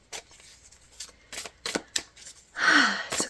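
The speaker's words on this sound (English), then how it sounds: "as I'm shuffling out your cards" Tarot cards being shuffled by hand: several separate soft flicks and slides at close range, then a longer riffling burst near the end, with no one talking.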